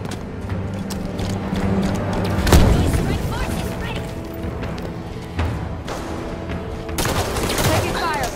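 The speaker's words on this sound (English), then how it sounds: "Taking fire from that doorway" Heavy gunfire from a Halo 5 battle, sustained bursts and booming shots mixed with explosions, loud and close throughout, with game chatter voices running underneath.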